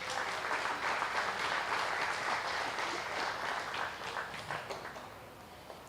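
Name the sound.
applause for jersey cattle at dairy show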